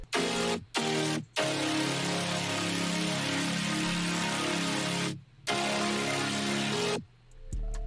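Vocoded synth chords layered together, compressed with OTT and EQ'd with boosted mids and trimmed lows, for a track; a dense, sustained harmonic wash plays throughout with brief gaps and a cutoff near the end.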